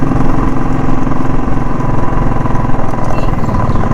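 A vehicle engine labours steadily on a high mountain road near Khardung La pass between Leh and Nubra, short of power in the thin air, its continuous loud drone running unbroken throughout.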